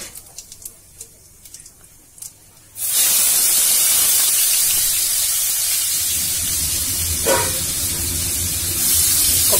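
Carom seeds and onion dropped into hot oil, a quiet start with a few small sounds, then a sudden loud hissing sizzle that holds steady to the end.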